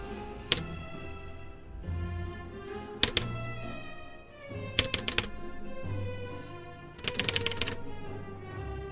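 The big space bar on a grimy computer keyboard is pressed in several sharp clicks and short rapid bursts over steady background music.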